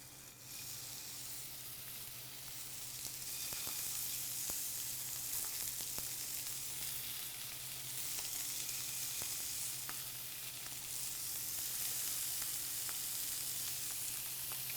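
Scallops laid seasoned side down in a hot pan with olive oil give a steady, bright sizzle that holds for the whole stretch, close and even, with no voices over it.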